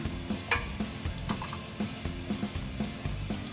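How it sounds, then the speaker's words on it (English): Jeera (cumin seeds) spluttering in two tablespoons of hot oil in a pan for mint rice, giving a steady close sizzle with a run of small regular pops and crackles throughout. "As jeera starts spluttering, let's put hing"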